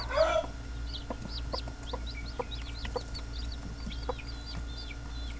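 Newly hatched Basilan native chicks peep in quick, high, scattered chirps over a steady low hum, close and fairly faint, with no one speaking.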